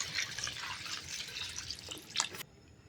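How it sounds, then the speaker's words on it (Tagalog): Water splashes and trickles into a cooking pot of chicken tinola for a couple of seconds, a bright, close pouring sound that stops abruptly. "Ayan guys, lagyan ko ng tubig."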